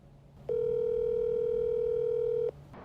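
An unanswered telephone call produces a single steady electronic tone lasting about two seconds, loud and clear against a low background hum.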